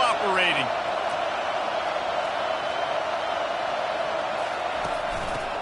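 A football stadium crowd on 1st and goal sends up a loud, steady roar that fills the whole clip, with a brief whistle-like cry near the start.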